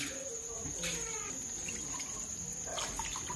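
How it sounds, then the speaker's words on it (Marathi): Water splashes into a pot of mutton curry in a home kitchen, a short steady pour with faint liquid sloshing, close by and fairly quiet. "हे बघा पाणी टाकून घेतलं आपण."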